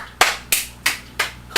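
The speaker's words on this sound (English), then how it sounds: "clap and clap and clap" Hands clap five times at an even, steady pace, each clap sharp, close and loud, with nothing else heard between them.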